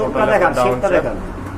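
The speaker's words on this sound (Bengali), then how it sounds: "রাজশাহী গিরিবাজ কবুতর মার্শাল্লাহ খুবই চমৎকার" Rajshahi Giribaz pigeons at a pigeon market give a brief run of low, throaty coos, close by and fairly loud, fading after about a second.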